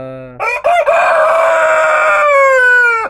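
A brooding hen sitting on eight eggs in a small backyard coop gives one loud, close, drawn-out call that starts with a short lower note and holds for nearly three seconds before cutting off.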